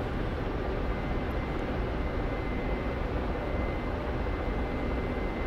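Ka-50 Black Shark helicopter in the DCS flight simulator, a steady loud broadband engine and rotor roar that holds constant throughout.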